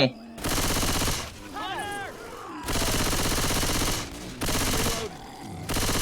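Bursts of rapid automatic gunfire from the zombie shooter Left 4 Dead 2 ring out loud and close, long sustained volleys separated by short gaps, with brief in-game sound effects between them.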